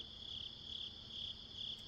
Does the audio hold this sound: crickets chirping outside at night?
yes